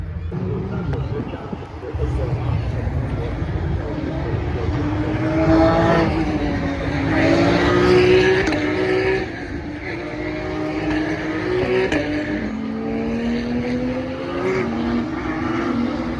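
Porsche Carrera Cup 911 race cars roar past on a British circuit, engines rising and falling in pitch as they sweep by, loud and close, with a voice speaking over the noise.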